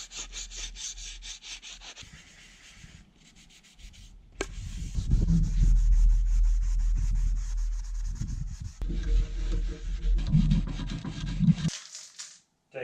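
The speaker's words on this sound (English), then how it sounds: "And typically wet sand it." Steady rhythmic rubbing and scraping of wet sandpaper over a hard foil wing surface, close by, with a slightly wet hiss and intermittent changes in pressure and pace.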